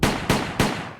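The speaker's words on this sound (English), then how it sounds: "Gunshots. It's gunshot detection." Three sharp gunshots ring out in quick, evenly spaced succession, each a loud crack followed by a short echoing tail.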